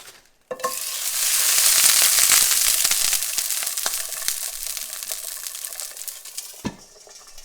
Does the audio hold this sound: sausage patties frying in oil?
yes